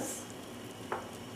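Sauce bubbling gently in a pan, a steady soft sizzle and simmer throughout with one brief louder pop or scrape near the end, close by with no talking.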